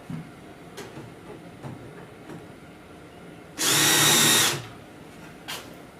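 A single burst of a power drill driving a screw into a kitchen cabinet drawer box, whirring for about a second, loud and close, with quiet surroundings and a few faint clicks before and after.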